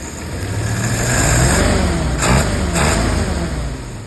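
A 1948 Willys pickup engine revving up close and loud, with a steady rumbling drone that swells and eases, plus a couple of brief harsher surges.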